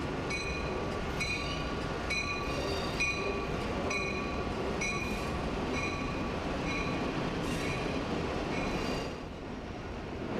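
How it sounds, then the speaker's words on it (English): A Metra Electric commuter train rolls into the underground Randolph Street terminal by the Chicago River, a steady rumbling roar of wheels on rail with repeated high squeals and clicks echoing in the enclosed station, fading slightly at the end. "Metra Electric comes in to Randolph Street, which is the terminal, right at the Chicago River."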